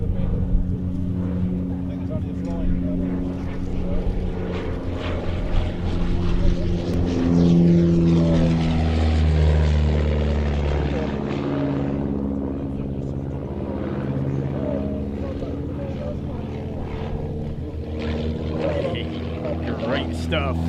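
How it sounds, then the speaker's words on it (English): A Miles Gemini propeller aircraft passes overhead, the engine drone rising and sliding in pitch as it approaches and recedes, with people talking over it. "He flies this aircraft with great verve, and it's always been a very sprightly performer, the Gemini"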